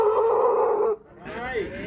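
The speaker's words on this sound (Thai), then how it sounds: "ไม่ต้องเห่าลุงไม่ต้องเห่า" A dog in a café setting in Pai, Thailand gives a single loud close howling bark, then a fainter yelp after a short gap.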